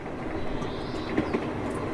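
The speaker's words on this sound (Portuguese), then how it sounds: "O trem seguia." A train runs steadily on its rails with a continuous rumbling roll, faint wheel clicks and a soft squeal heard from nearby.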